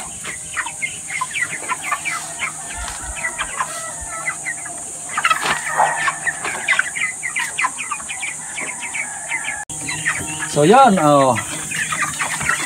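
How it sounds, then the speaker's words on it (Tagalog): Chickens clucking and calling in a roomier coop, a steady busy chorus of clucks with occasional louder calls and a rooster-like crow near the end, alongside brief talk. "maganda na ang pakiramdam ng ating mga manok"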